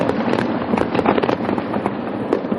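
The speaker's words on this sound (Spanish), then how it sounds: "cuando se realizan fuegos artificiales hay que situarlos" Fireworks going off at night, a dense burst of crackling pops and sharp bangs in quick irregular succession, loud and close.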